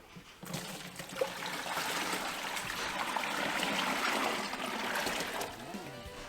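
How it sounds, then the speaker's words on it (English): Brine pours in a continuous splashing stream onto a whole turkey being prepared for deep frying, rising after a brief start and holding steady before tapering off near the end. "now I'm going to add the brine"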